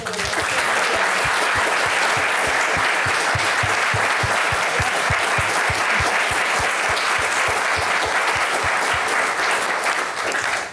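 An audience at an academic prize lecture event gives a sustained round of applause for a speaker, with dense, loud clapping that holds steady for about ten seconds before trailing off at the end.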